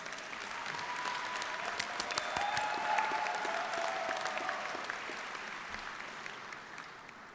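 Applause from the audience at a 2016 business school commencement ceremony at IIT Chicago, with steady sustained clapping from a large hall crowd that swells slightly and then tapers.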